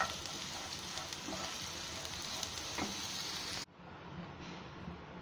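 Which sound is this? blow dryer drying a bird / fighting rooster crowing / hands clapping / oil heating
oil heating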